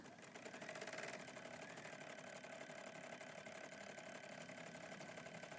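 An embroidery machine stitches the eyes and nose of a gnome flat puppet, a fast, steady mechanical whir and rapid needle patter that holds evenly throughout, close and fairly quiet.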